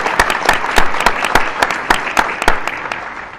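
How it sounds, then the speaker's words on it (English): Audience applause at an annual meeting, honouring board members retiring from a committee: dense, sustained clapping from a crowd indoors, loud and steady throughout, with no speech over it. "let's give a round of applause to"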